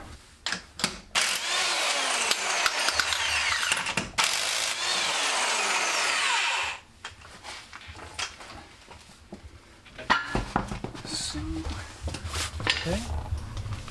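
Wheel removal on a Land Rover Discovery 2 during a wheel bearing swap: a power tool such as an impact wrench whirs in long loud bursts, mixed with clanks and metallic handling noises up close.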